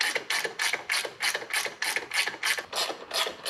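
A ratchet runs down the rocker box bolts on a 2004 Harley-Davidson Road King Twin Cam, making about a dozen quick bursts of close, crisp clicking in an even rhythm.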